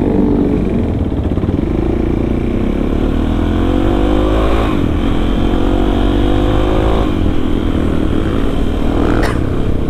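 Engine of a Suzuki DRZ 400 supermoto motorcycle, loud and close, idling and revving in a steady throb with rising and falling pitch sweeps, heard during a night ride in Lembang.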